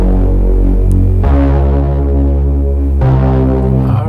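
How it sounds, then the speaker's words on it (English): A loud, buzzy slap house synth bass in FL Studio holding low sustained notes, changing pitch twice, thick and gritty with a throbbing hum. "greasy bass"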